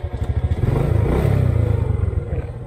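A motorcycle engine coughs and catches on a Malaysian island, settling into a rough, pulsing idle close by, with a loud, steady throb and no voices.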